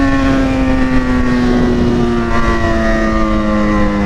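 A loud, steady engine roar with a strong droning tone holds throughout, like a Yamaha XJ6 motorcycle with an aftermarket exhaust blaring close by with no letup.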